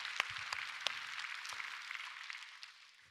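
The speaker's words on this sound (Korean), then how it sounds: "우리 아버지들을 위해서 격려의 박수 해주시기 바랍니다." Church congregation applauding to encourage the fathers during a Sunday service, a soft, steady wash of many hands clapping at a moderate distance that slowly fades out.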